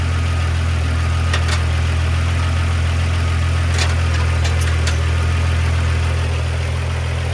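A 1986 Ford F150 pickup engine idles steadily and evenly after a pickup coil replacement, with a constant low hum and a few faint clicks, no talk.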